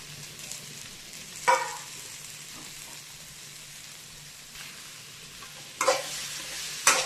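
Chicken green masala with coriander being stirred in a pan, with a soft sizzle under scattered spoon scrapes and a few sharper clatters.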